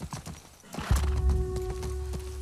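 A horse in The Last of Us Part II, its hooves clip-clopping and a whinny breaking out partway through, close and fairly loud over steady game ambience.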